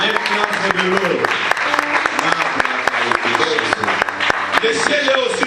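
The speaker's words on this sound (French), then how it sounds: "Let's clap for the Lord." A church congregation claps and cheers in praise of the Lord, dense sustained applause filling the room with voices calling out and talking amid it.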